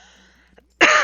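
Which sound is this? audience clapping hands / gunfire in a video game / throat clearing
throat clearing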